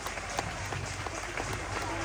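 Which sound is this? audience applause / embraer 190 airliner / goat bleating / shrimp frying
audience applause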